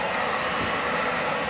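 Blow dryer drying paint on a wall, a steady loud whooshing hum of blowing air, continuous and close without change.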